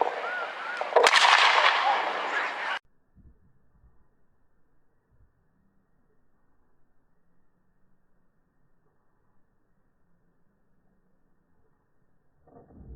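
An antique single-barrel sporting gun fires one loud, sharp blast that rings out for a couple of seconds, followed by near silence with faint rustles.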